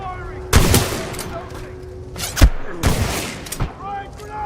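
Gunfire in the Titanfall 2 campaign, a first-person shooter, cracks out in several loud separate bursts of shots and blasts over a low battle backdrop, with faint voices between the volleys.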